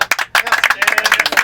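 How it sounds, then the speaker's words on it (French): Brief burst of applause, a small group clapping quickly and unevenly, close and fairly loud, for just over a second. "je vais demander aux coureurs d'applaudir tout l'encadrement"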